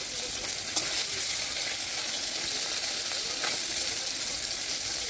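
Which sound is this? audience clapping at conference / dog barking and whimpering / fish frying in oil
fish frying in oil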